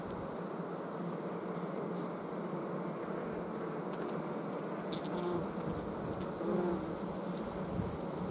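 An agitated honeybee colony buzzing continuously and densely at close range, a steady droning hum with no talk.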